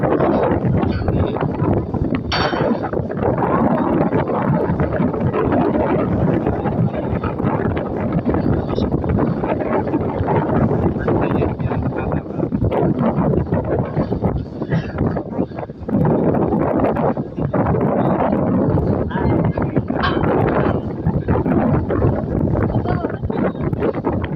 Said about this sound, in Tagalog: Yan yung motor. Nilagay sa pumat.